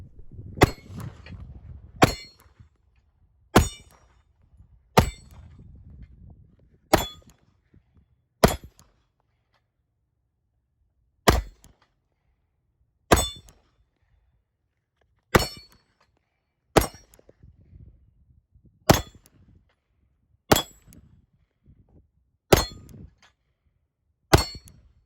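Pistol rounds ring off steel targets at a range, about fourteen sharp metallic clangs spaced roughly one to two seconds apart, each loud shot followed by a brief ringing decay.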